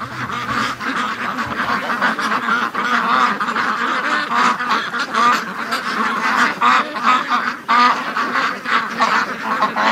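Free range ducks gathered in a front yard quack and honk almost without pause, loud and close, a busy chorus of overlapping calls lasting the whole stretch.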